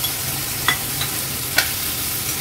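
Washed vegetables sautéing in oil for masale bhat, a steady close sizzle with a few soft stirring clicks.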